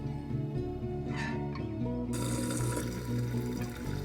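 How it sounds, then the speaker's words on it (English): Water from boiled potatoes pours out of a pot into a sink, a steady splashing rush that swells louder partway through and runs on without speech. "we're going to drain the water."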